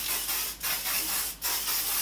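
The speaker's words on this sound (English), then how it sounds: "I'm going to take a little bit of hairspray and I'm just going to spray that over these curls" Hairspray mists from an aerosol can over freshly curled hair in two close, steady hissing bursts, each broken by a short pause.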